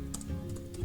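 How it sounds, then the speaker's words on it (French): A magic grimoire in a Dungeons & Dragons tabletop session makes computer-keyboard typing sounds: quick, light key clicks in a short irregular burst, close and clear over a low steady background hum. "Le grimoire fait des bruits de clavier."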